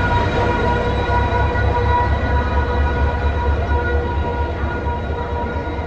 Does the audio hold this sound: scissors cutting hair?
no